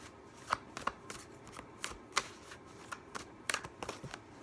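Playing cards being shuffled, a series of soft riffling bursts and light taps repeated at an uneven rhythm, quiet and close with no talk.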